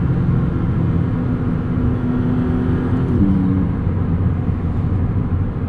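A 2022 Maserati MC20 supercar engine drones steadily while driving, loud and close, with a brief pitch shift midway like a gear change.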